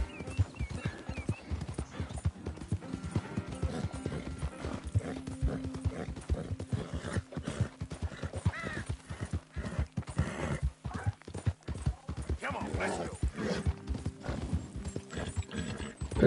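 Steady clip-clop of horse hooves trotting throughout in Red Dead Redemption 2, with an occasional whinny breaking through, loud and close.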